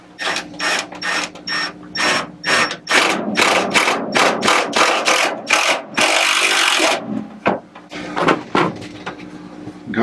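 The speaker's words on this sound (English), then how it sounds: "Secure this right in the middle with one of these screws" A power drill drives a screw into a car headliner, giving repeated loud bursts of motor whine with a longer continuous run near the middle, close and without talk.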